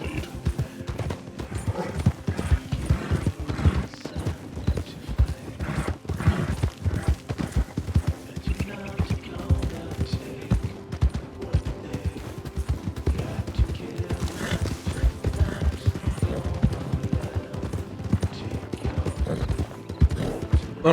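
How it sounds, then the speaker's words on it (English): Horse hooves clip-clopping in Red Dead Redemption 2 online roleplay, a fast, steady close patter of hoofbeats with faint creaks of tack throughout. "you can call your new horse Clyde"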